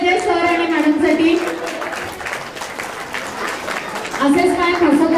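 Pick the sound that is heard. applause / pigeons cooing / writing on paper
applause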